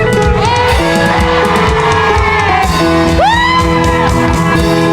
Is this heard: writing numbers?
no